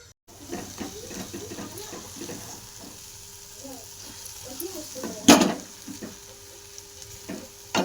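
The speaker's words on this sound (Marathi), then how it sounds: "त्या पाण्यात मस्त गवार शिजवून घ्यायची चला आता आपण याला एक उकळी काढून घेऊ" Guar (cluster bean) curry with peanuts simmering in water in a pan, soft bubbling and stirring scrapes under intermittent talking, with one sharp loud clatter near the end.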